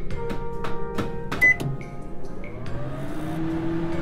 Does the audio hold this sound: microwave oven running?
yes